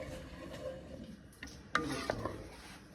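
A spoon scrapes and stirs through spaghetti sauce seasoned with garlic powder in a pot, soft rubbing strokes growing into a few louder clacks and knocks against the pot near the end, close and quiet.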